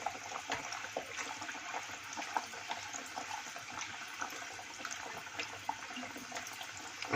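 Pumpkin gharge puri deep-frying in hot oil over a medium gas flame gives a steady, dense sizzle and bubbling that runs unbroken throughout, close and moderately loud, with no talking.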